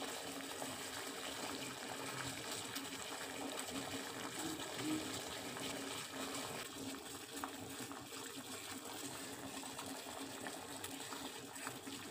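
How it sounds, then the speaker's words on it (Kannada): Water bubbles at a steady, soft boil in a pot, reducing by half, a continuous low rushing with no voices. "ಈ ನೀರು ನೋಡಿ ಎಷ್ಟು ಚೆನ್ನಾಗಿ ಕುದೀತಾ ಇದೆ"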